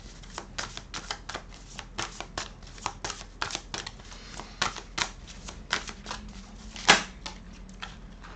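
Tarot cards are shuffled and handled close by, giving a quick series of soft papery snaps and flicks with short pauses and one sharper slap near the end, with no talking.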